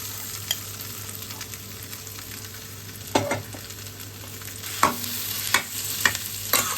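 Boiled potatoes and curry leaves sautéing in a pan, a soft steady sizzle broken by several sharp scraping stirs of a spatula.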